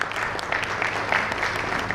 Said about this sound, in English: Can you have a huge round of applause for Tushar Kohli?